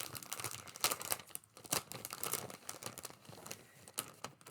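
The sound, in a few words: crinkling of a plastic baggie holding cross-stitch trims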